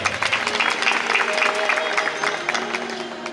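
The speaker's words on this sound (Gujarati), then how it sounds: "એકવાર જોરદાર તાળીથી વધાવો" A crowd at a Janmashtami dayro gathering at Gadhpur Dham bursts into sustained, dense applause, many hands clapping together at steady volume, tapering slightly toward the end.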